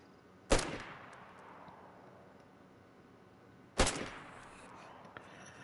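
Two sharp gunshots from a gun in DayZ on PS5, spaced about three seconds apart, each a loud crack with a short decaying tail over quiet background.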